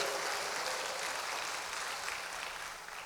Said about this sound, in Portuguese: Mais um aplauso para o Senhor.